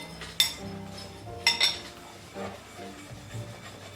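Winter bath bomb ingredients are mixed in a bowl, with light clinks and scraping rubs of a utensil against the container, close and fairly quiet, a few sharper taps standing out.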